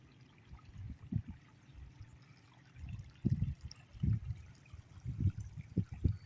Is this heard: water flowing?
yes